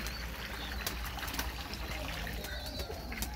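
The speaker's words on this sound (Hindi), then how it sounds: "इसमें साफ पानी डालना है।" Clean water trickles and pours into a container for pet pigeons, a steady close dribble with faint bird cooing in the background.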